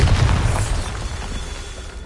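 A Bombarda spell bursts with a deep, loud boom in Hogwarts Legacy, the blast rumbling heavily at first, then thinning out into a fading roar.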